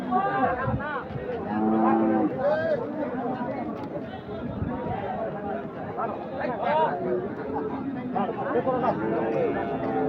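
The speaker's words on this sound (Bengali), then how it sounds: "আমরা বেশি একটি বিশাল আকৃতি বেশ বড় সড়ো ষাঁড় গরু দেখছি।" A large bull lows repeatedly at the Ambari cattle market, where Qurbani bulls are sold. Its deep, drawn-out calls sound close and loud over steady crowd chatter and people talking nearby.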